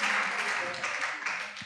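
Audience applause at a student leadership session, a dense, sustained clatter of many hands clapping together, fairly loud and even throughout.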